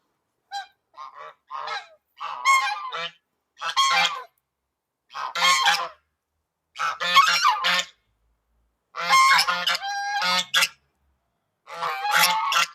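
Geese honk loudly in repeated bursts, several birds calling over one another with short pauses between the noisy outbursts.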